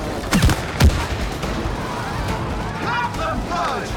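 Gunfire in the co-op video game It Takes Two sounds as a couple of sharp shots near the start, followed by a busy stretch of game effects and music while players talk.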